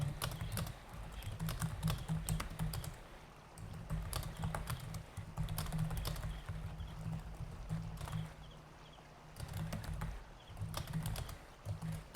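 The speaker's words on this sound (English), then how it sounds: "Let me type this down." Rapid irregular clicking of keys being typed on a computer keyboard during a guided meditation session, fairly close and steady, with a low hum in the background and no talk.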